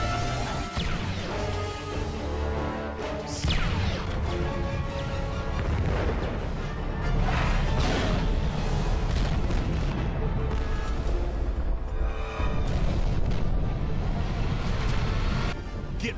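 Cannon fire during a Star Wars: The Clone Wars battle on Ryloth: dense, repeated heavy booms and crashing blasts, loud and sustained throughout with layered battle noise.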